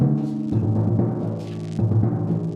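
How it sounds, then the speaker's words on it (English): Timpani played in an audition étude with careful dampening, sustained low booming tones rolling and changing pitch, with a couple of fresh strokes cutting through the ringing. "Notice the judge is going to be looking very closely to see if you're controlling your dampening in measures 12 and 13."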